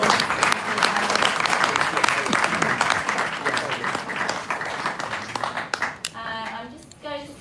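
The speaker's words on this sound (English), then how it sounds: "Can we just give a round of applause?" Audience applause at a leadership conference, a dense, steady roar of many hands clapping that fills most of the stretch before thinning out, with a few voices rising near the end.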